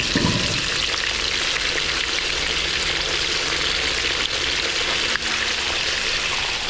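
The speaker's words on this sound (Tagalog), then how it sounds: "Yung mga beli, piniprito na natin." Pork belly frying in hot oil for a catering service at a death anniversary gathering in Pampanga, giving a loud, steady crackling sizzle that runs unbroken from start to finish.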